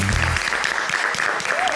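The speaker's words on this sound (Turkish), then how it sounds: "Buyurun alkışlayalım." A television cooking-competition studio audience breaks into dense, sustained applause that fills the whole stretch, with a voice briefly audible at the start.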